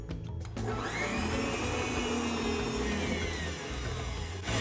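An electric mixer whips egg whites to stiff peaks with a close, steady motor whine that runs almost unbroken for about four seconds.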